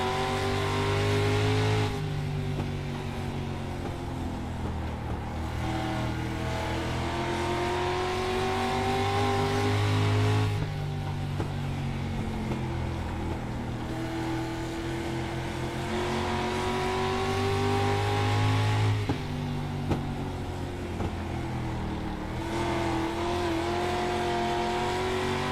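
Race car engines roar in a sim racing game during a Virginia short-track night, sustained and loud, rising and falling in pitch as the throttle is worked, with faint tyre noise and no talk.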